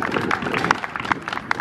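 A crowd at a flag football game gives the seniors a brief round of applause, quick scattered claps with a few voices mixed in, heard fairly close and lasting under two seconds.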